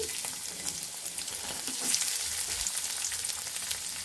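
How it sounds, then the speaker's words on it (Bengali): Chopped onions frying in a wok, making a steady, close sizzle with a soft crackle throughout and no talking. "কড়াইয়ের মধ্যে পেঁয়াজ কুচি"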